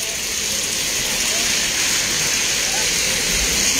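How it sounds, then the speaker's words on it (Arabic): Steady rain falls over a roundabout in the city of Fez, a continuous even hiss of droplets with a faint rumble of passing traffic beneath, no talking heard. "امطار الخير كتهطل الان على المباشر"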